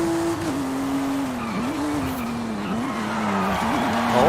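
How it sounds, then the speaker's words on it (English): Race car oversteering in a Forza racing video game, its engine holding a steady drone while the tires squeal and skid in wavering bursts, close and loud, with a rise in engine pitch near the end. "Oh, a little bit of oversteer."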